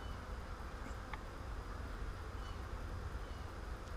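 A swarm of honey bees gives off a steady, soft, continuous buzzing drone, distant and unbroken throughout with no voices.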